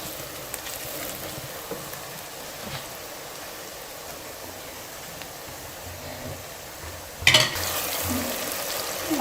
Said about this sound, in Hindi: डालकर तकरीबन थोड़ा सा भून लें